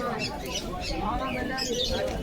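Pigeons at a busy pigeon market in Beldanga, with birds cooing and squawking under steady crowd chatter and voices throughout.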